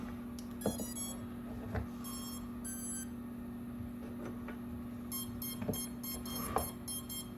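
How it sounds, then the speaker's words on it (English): An iFlight Alpha85 HD FPV drone beeps on power-up, short electronic chirps repeating in small bursts over a steady low hum, close by and fairly quiet, with a few clicks between them. "It's beeping and beeping and beeping."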